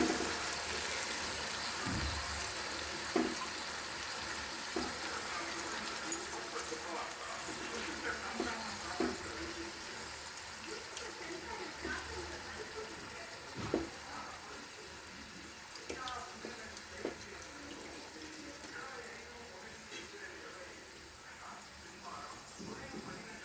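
Water sloshing and splashing as chopped amaranth leaves are swished and rinsed by hand in salted water, with scattered soft drips and splashes throughout.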